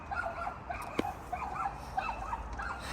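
A dog whimpers and whines in short, high, repeated cries, fairly close, with a soft thump partway through.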